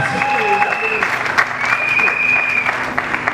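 Applause from an audience at a church gathering in Congo as a judge walks up to the stage, steady clapping with a voice speaking over it.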